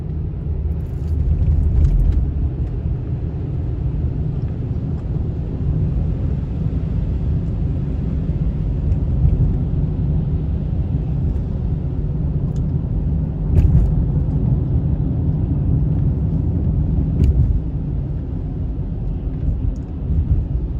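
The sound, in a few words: car driving on snowy road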